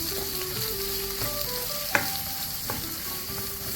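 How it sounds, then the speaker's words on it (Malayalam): Thinly sliced onions fry and are stirred in a pan for tomato rice, giving a steady close sizzle with occasional scrapes of the spoon and one sharp knock against the pan. "അതും കൂടി ചേർത്ത് കൊടുക്കാം കൂടി ചേർത്ത് നന്നായിട്ട് ഇളക്കി കൊടുക്കാം"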